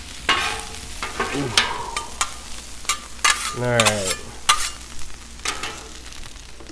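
Ground beef and green onions sizzle steadily in a pan, close and lively, with stirring scrapes and a short spoken remark over the frying.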